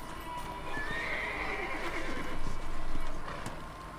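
A horse whinnies in the Red Dead Redemption video game, a rising neigh close by that carries over steady clip-clopping hooves and outdoor ambience, with no speech.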